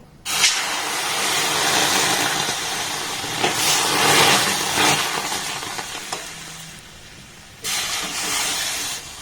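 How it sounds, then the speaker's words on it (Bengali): Water poured into roasted semolina in a hot pan erupts in a loud, rushing steam hiss that surges and fades, then flares again briefly near the end. "এবার এখানে দিয়ে দেবো জল"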